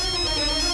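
A phone ringtone plays loud and close, a sustained electronic tone with bright layered harmonics, in a Tamil television serial scene.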